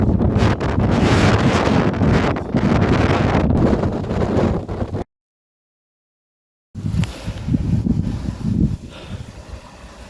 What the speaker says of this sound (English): I can't go. The wind is blowing me.